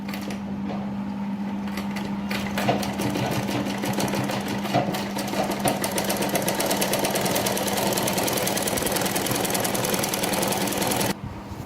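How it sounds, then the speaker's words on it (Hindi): Sewing machine stitching a double-folded kurti hem, running steadily and loudly with a continuous mechanical hum and rapid needle rhythm, stopping abruptly near the end. "डबल फोल्ड करके 2 बार सिलाई लगा के इसको भी फिक्स कर लेना"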